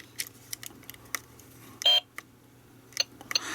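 A short electronic beep from a Star Trek toy tricorder stands out among scattered clicks and rattles of handling, with a couple of faint chirps afterward.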